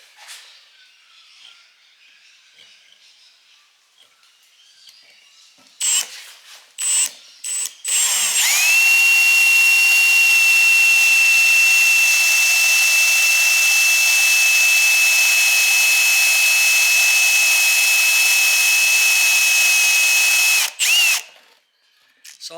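An electric drill bores out parts of a 1966 Ford Mustang quarter vent glass frame. A few short bursts and a quiet lead-in give way to a long, loud, steady high whine before it stops.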